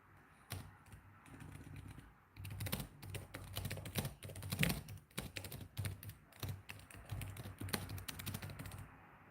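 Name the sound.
typing on a computer keyboard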